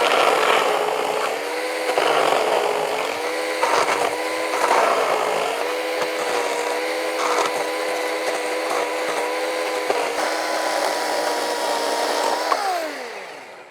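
A Ridgid outdoor power saw cuts a notch into a log, its motor whining steadily and loudly with slight pitch dips as it bites the wood, then spinning down at the end.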